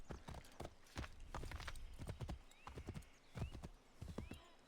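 Horse hooves in Assassin's Creed 3 clip-clop in a fast, irregular gallop rhythm with an occasional whinny, close and fairly quiet.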